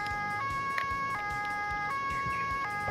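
A police car siren in the game Autobahn-Polizei Simulator 2, a two-tone wail alternating between high and lower pitches every fraction of a second, steady and prominent over faint road and engine noise.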